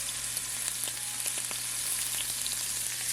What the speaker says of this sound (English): I'm gonna put this oil in like so, and I'm gonna push down just a little bit to get the best sear possible